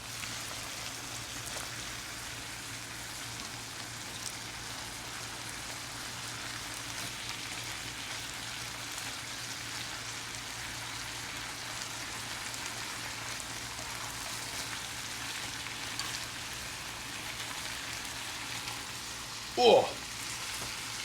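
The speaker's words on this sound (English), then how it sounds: "Now all I gotta do is sort of massage all of this into our stir fry here." Buldak noodle stir fry sizzling in a pan, a soft continuous crackling hiss with faint stirring and one brief louder clatter near the end.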